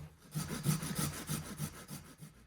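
Hand carving and trimming a piece of wood into a long tail, heard as rhythmic rasping strokes about four per second, close and moderately loud, with no talking.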